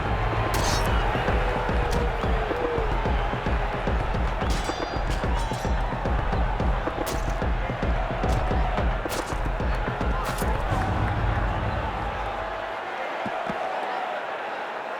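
A large crowd in a Roman arena murmurs and roars in a steady dense wash, with sharp clattering bursts scattered on top before the noise thins out near the end.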